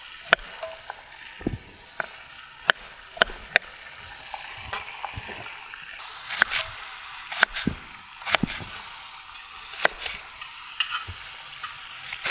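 Beef oxtails frying hard in a pan, their marinade browned, giving a continuous sizzle punctuated by sharp utensil knocks and clicks against the pan.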